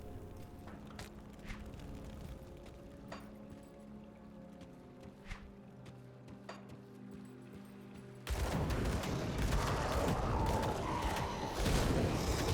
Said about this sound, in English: Seems to help us with, maybe help us with crowd control. Makes explosions.